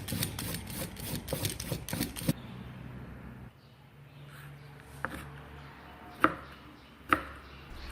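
Grated carrot strands chopped with a knife on a board, a fast run of close, even taps at first, then quieter pauses broken by a few single sharp knocks.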